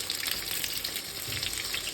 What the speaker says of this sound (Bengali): এই আলুগুলো এবার আমি ভেজে নেব। তার জন্য কড়াই সর্ষের তেল দিচ্ছি কিছুটা, এবং আলুটা বসিয়ে দিচ্ছি।